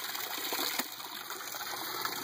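Water flowing into an aquaponic grow bed fitted with an ABS bell siphon, a steady rushing gush that continues throughout the clip, constant and fairly loud.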